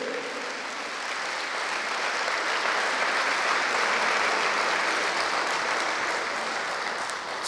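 Sustained applause from an audience at a merchant marine welcome ceremony for International Women's Day, a steady dense wash of clapping that swells slightly in the middle and holds throughout.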